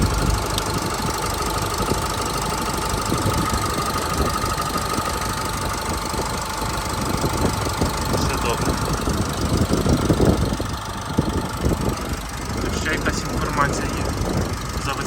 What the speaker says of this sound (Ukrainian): Мотор працює чітко.